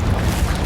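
Confringo blasting spell from the video game Hogwarts Legacy, a loud, close, sustained rumbling boom of an explosion filling the whole brief moment, with no talking.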